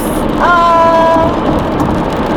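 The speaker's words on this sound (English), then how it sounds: "It's raining." Rain drums steadily on a car during a storm while driving on a road trip from New York to Ohio, a loud, dense hiss filling the cabin with a brief tonal chime near the start.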